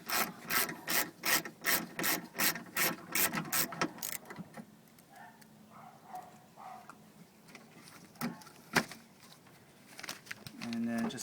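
A 10mm socket ratchet clicks rapidly in a steady run of bursts while a bolt is removed from a 2005 Toyota Highlander door, then gives way to quieter plastic handling and a sharp knock.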